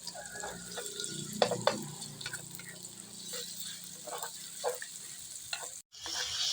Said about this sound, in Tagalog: dulugin lang natin yung ating kamatis